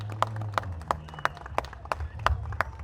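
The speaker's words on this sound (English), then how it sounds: "So really a special round of applause for them." A crowd at an outdoor community night-out event in New Bedford claps, with a series of sharp, regularly spaced claps standing out over steady background murmur and low rumble.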